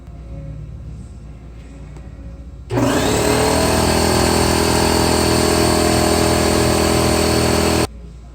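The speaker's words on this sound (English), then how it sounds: "I think I need to air up my tank." An air compressor in a scooter repair shop runs loud and steady for about five seconds after a sudden start, a constant motor drone with rhythmic pulsing, then cuts off abruptly.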